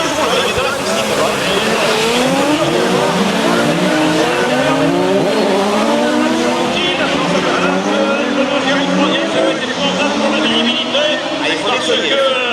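Race cars in a Trophée Andros ice race at Saint-Dié-des-Vosges roar off the start together, a dense loud wash of revving engines and spinning tires, while a commentator talks over the noise throughout.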